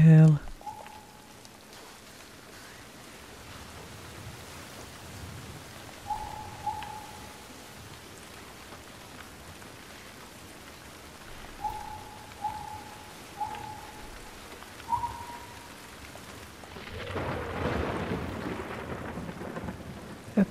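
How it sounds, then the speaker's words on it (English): Thunderstorm with steady rain in the video game The Last of Us Part II, a soft constant rain wash with a deep rumble of thunder building near the end, alongside faint repeated hooting-like tones. "that thunderstorm sounds rather threatening."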